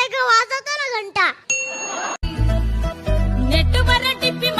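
A bell rings in a bright, sustained ding after a burst of shouted talk, then music with a heavy beat takes over.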